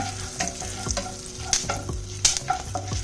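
Black pepper and whole garam masala frying in oil for a chicken stew, with a steady sizzle and repeated clinks and scrapes of stirring, close and clear.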